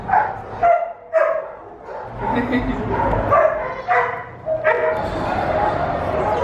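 Several dogs bark and yip in short bursts at an animal shelter, close and fairly loud, with whimpers mixed in between the barks.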